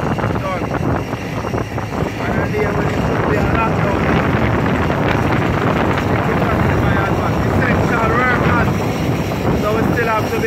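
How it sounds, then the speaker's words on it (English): Loud, steady roar of a cargo aircraft from Miami at an airport, with broadband engine and wind noise filling the whole stretch. "Pretty aircraft coming from Miami with cargo chartered by Emirates International"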